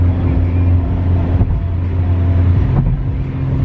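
Car picking up speed on a road up to about 100 km/h during a driving lesson, a steady loud engine and road rumble throughout, with occasional talk inside the car.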